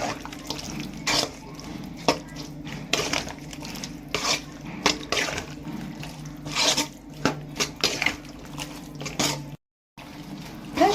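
Eggplant thokku is stirred in a pan after a light sprinkle of water, with repeated scraping and wet stirring strokes in an irregular rhythm, close and moderately loud, with a brief dropout near the end.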